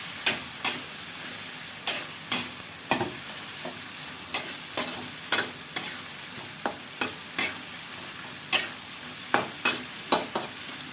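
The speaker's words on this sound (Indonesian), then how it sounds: "Ini saya masukkan bawang bombay" Onion drops into hot oil and fries with a constant sizzle, while a spatula scrapes and taps the pan at a regular stirring rhythm, close and clear.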